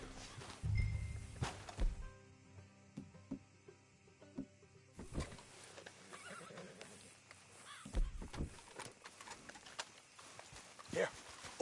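In the video game Red Dead Redemption 2, horses whinny and hooves clop intermittently at close range, with scattered thuds and a few bursts of activity over a quiet background.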